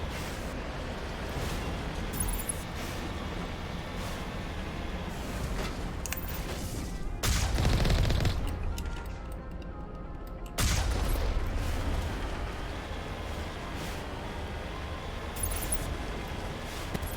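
Distant enemy gunfire in Mass Effect 1 Legendary Edition on the planet Therum, heard as steady far-off shots and booms blended into a dense game soundscape with swelling bursts midway.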